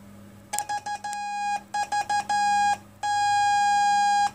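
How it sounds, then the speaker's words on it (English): Electronic CW sidetone beeps from a Ten Tec OMNI transceiver, close and clean: a rapid run of short keyed tones, then longer held tones, ending in one sustained beep, all at a steady pitch. "Here's the Sidetone, how it sounds."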